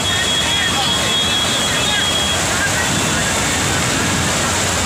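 Floodwater rushes loudly and continuously through a flooded street during extremely heavy rain in Mumbra, Thane, a dense roaring wash that stays near and steady throughout.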